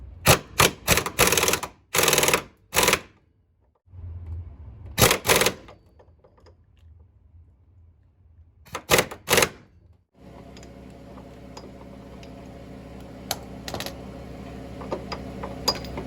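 A bolt on a Ford Duratec four-cylinder engine, held with a pulley holder, is tightened in several short, loud bursts of ratcheting clicks, close by, followed by a steady mechanical whirr.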